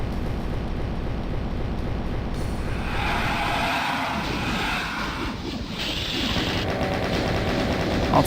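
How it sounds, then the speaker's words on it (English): Rapid, continuous chain gun fire in Doom II, MAP19 The Citadel, a dense, steady rattle of repeated shots filling the whole stretch at close range, with no voices. "Go ahead and use the chain gun here, since I can replenish my ammo."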